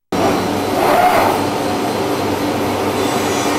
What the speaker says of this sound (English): Il prépare la machine pour la production.